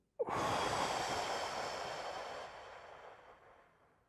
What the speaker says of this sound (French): Une respiration.